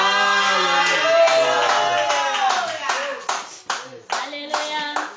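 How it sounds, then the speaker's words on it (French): Congregation applause during a Sunday church service, a dense wash of hands clapping together with singing voices over it, the clapping growing choppier and more rhythmic toward the end. "On acclame le Seigneur."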